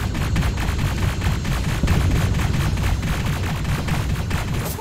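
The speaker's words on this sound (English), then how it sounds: "What the hell are they shooting at?" Continuous heavy automatic gunfire in the video game Terminator Resistance, loud and dense with overlapping volleys and no break throughout.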